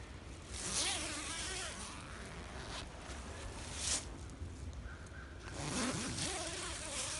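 A hammock's zipper is drawn open in a few quick rasping pulls, close and fairly quiet, with short pauses between strokes.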